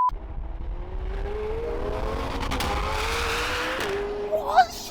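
A McLaren 720 supercar with a modified exhaust accelerates past, its engine note climbing in pitch as it revs, with a faint tyre squeal and a couple of sharp pops near the end.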